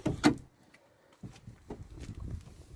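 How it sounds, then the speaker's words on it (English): Someone opens the rear door of a 1963 Ford Cortina Mk1 restomod: a sharp latch click comes first, followed after a pause by softer clunks and rattles of the door swinging open, close by. "just open the rear door"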